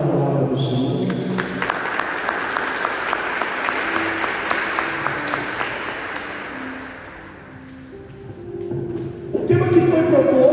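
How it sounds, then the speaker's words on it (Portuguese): Church congregation at a sermon in Águas Lindas de Goiás bursts into loud, sustained applause lasting several seconds, fading midway as a voice and music carry on, then rising again at the end. "Agora aplauda a palavra do Senhor"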